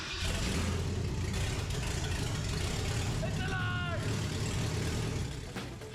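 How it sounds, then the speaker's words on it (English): A rebuilt, fire-damaged Ford Mustang engine starts and runs steadily, a loud continuous low rumble filling the whole stretch, with brief voices or squeaks faintly over it. "Will this engine burst back into life?"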